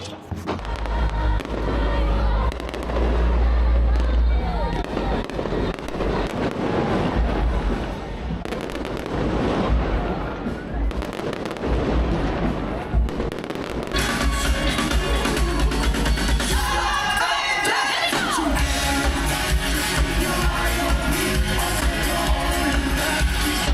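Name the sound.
fireworks display in Washington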